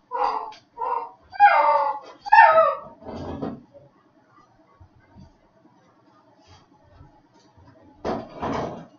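A small dog trapped under a chair whimpers and yips in a quick series of high, wavering cries, then goes quiet before a short scuffle of movement near the end, all close by in a quiet room.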